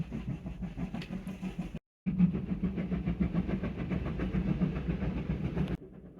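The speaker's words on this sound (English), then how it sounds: "it's steam train time if you can hear it" A steam train rumbling past nearby, a steady low chugging roar with rhythmic clatter, briefly cut off once, then continuing before fading.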